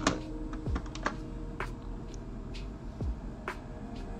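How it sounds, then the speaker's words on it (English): Computer keyboard typing in scattered, sparse keystrokes and a few sharper clacks over a steady background hum, close but modest in level, with no speech. "I'm typing in Russian, that's why"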